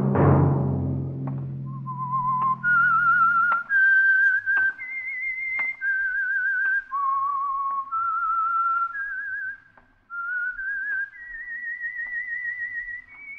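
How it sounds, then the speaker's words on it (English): A whistled theme tune for the Signal Oil radio mystery program The Whistler: a lone, clear melodic whistle of sustained, gliding notes after a brief low orchestral opening, close and steady with no talk. "Let that whistle be your signal for the Signal Oil program, The Whistler"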